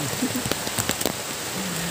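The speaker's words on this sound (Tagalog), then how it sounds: "ang lakas ang ulan" Heavy typhoon rain pours steadily onto a hard surface close by, with scattered louder drops tapping through the dense hiss.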